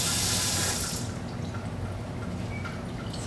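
A leaking kitchen sink faucet in a kitchen, with water running steadily at first and then easing to a quieter trickle with faint drips.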